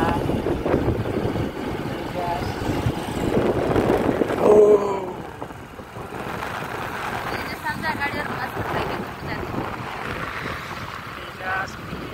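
Motorcycle ride along a highway, a steady engine drone buried in heavy wind rush against the microphone, with people talking over it.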